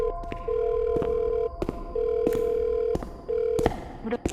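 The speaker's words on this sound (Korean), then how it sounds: "천모라는 아무리 전화를 걸어도 받지 않는 지아에게 열을 내며" An outgoing phone call rings unanswered: a steady electronic ringback tone pulses three times in long beeps, broken by sharp clicks and thumps between them.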